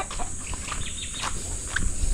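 Farm chickens cluck in scattered short calls over a steady background hiss, with a couple of louder bird calls standing out near the end.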